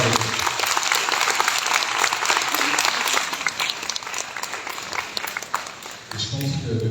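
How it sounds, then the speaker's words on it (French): Audience at the opening of a sport and autism conference applauds, sustained loud clapping that carries on for several seconds before easing slightly near the end. "on peut l'applaudir"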